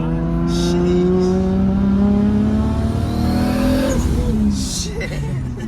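Lexus SC400 with a manual swap revving hard, engine pitch climbing steadily then dropping off near the end, loud and close with a faint voice underneath.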